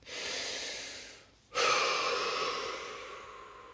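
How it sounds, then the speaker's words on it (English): One deep breath during a guided relaxation session: a long airy inhale, a brief pause, then a fuller sighing exhale that fades slowly, soft and close with no speech. "Take a deep breath."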